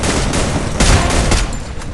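Gunfire from a sniper battle in the Free Fire video game, a dense loud barrage of shots with bursts around the middle, no talking heard.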